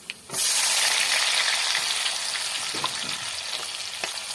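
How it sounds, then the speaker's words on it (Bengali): Onions drop into hot oil in a pan where fish was just fried, bursting into a loud, continuous sizzle that stays steady, with occasional stirring clicks. "পেঁয়াজটাকে সঙ্গে একসঙ্গে ভেজে নিই।"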